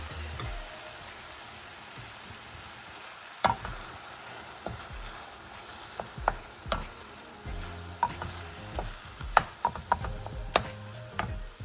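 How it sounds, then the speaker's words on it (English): Chopped eggplant goes into a pan, then a spoon stirs it, giving scattered scraping clicks and light knocks over a soft sizzle, close and intermittent. "So now it's time to put in the chopped up eggplant."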